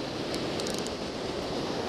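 Steady roar of ocean surf breaking on a beach, continuous washing noise with wind, no distinct individual wave crashes, moderately loud and alone.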